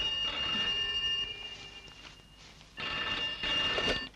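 A telephone in a 1987 Indian film rings in two loud electronic bursts, a pause between them, then a second ring that starts and stops twice.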